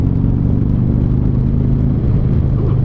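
Harley-Davidson motorcycle engine while riding in second gear, a loud, steady low rumbling throb with constant wind noise, close and continuous throughout.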